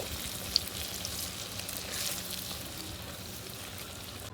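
Lentil fritters (bora) fry in hot oil with a steady, soft, close sizzle. The crackle runs evenly throughout, with no talk.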